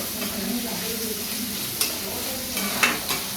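Onions sautéing in a pan for a spicy potato curry give a steady close sizzle, with a couple of sharp spoon scrapes against the pan near the end.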